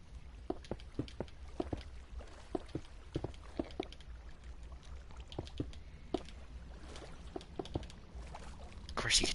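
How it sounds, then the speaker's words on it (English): Quiet water sloshes and drips aboard a ship in a Titanic video game, with soft irregular splashes and trickles at low level, swelling slightly at the end. "Of course, you could hear the water."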